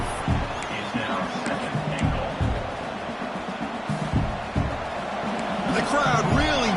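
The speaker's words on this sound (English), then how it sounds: "And the crowd really making some noise now, trying to help out this defense to get this stop near the goal line" Crowd at an East Carolina versus Penn State college American football game roaring steadily as the defense lines up near the goal line, a dense, continuous wash of cheering with a commentator talking over it.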